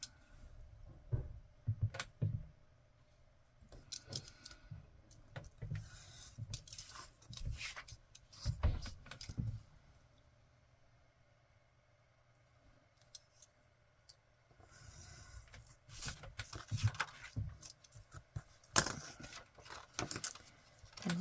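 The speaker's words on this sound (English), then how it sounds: "I'm going to cut this out" Scissors snipping through paper scraps during Christmas ephemera crafting, with quiet, close, intermittent bursts of crisp cuts separated by short pauses.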